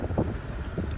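A boat runs at sea, its engine giving a low rumble under wind buffeting the microphone during one brief second.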